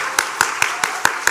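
Church congregation clapping in rhythm, with six sharp, evenly spaced claps over a little more than a second, close and fairly loud.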